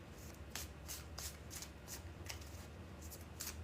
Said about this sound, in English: we're going to do 3 more shuffles for the Sagittarius Collective